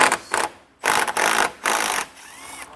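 A 10mm socket on a ratchet wrench spins off the hood fasteners of a 2026 Ford Escape in short, close bursts of fast buzzy ratcheting clicks separated by brief pauses.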